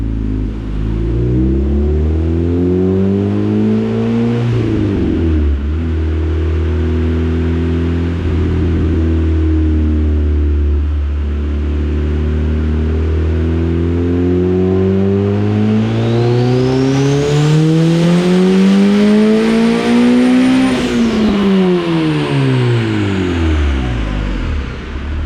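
A turbocharged Honda CRX screams through a full dyno pull on VTEC. The engine climbs steadily in pitch to a high peak, then drops away quickly, loud and close the whole time, with turbo whistle riding on top and no talking.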